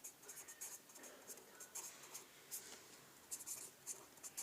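Pen writing by hand during a maths lesson: faint, irregular scratching strokes and small taps in a quiet room, close up.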